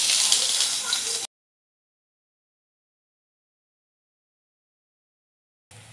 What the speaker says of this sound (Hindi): अब हम इसमें थोड़ा सा जीरा ऐड करेंगे, थोड़ी सी राई ऐड करेंगे और इनको अच्छे से तड़कने देंगे।